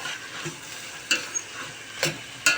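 Lentils sautéed in a pan, a soft low sizzle with a few sharp ticks and scrapes of a utensil against the pan at irregular moments, close but fairly quiet, no talking.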